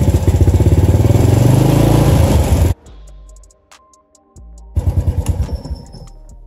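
A Honda TRX90 ATV engine runs loud and close at a steady idle, then cuts off into near silence with a few small clicks, then fires up again and runs with a choppy, pulsing rhythm.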